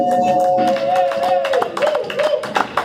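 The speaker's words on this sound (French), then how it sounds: "Vous pouvez applaudir le Seigneur?" A church congregation applauding the Lord during a French-language worship service: a steady patter of many hands clapping builds after a voice's opening line and continues beneath singing or speaking.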